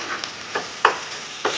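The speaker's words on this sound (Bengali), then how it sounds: "প্রথমে আমি পেস্টটা দিয়ে দিলাম, জিরে বাটা, আদা বাটা, লঙ্কা বাটা যে পেস্ট ছিল সেটা দিয়ে দিলাম।" Cumin, ginger and chili paste frying with onions in a pan for Bengali-style mutton curry, with a soft sizzle and a few distinct stirring clinks and scrapes.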